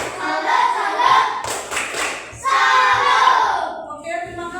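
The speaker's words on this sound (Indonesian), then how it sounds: "Tepuk salut untuk kelompok 3" Children in a classroom clap together in a chant-like rhythmic pattern for a group that has just presented during a coding and artificial intelligence lesson, with bursts of clapping separated by brief pauses and no talk.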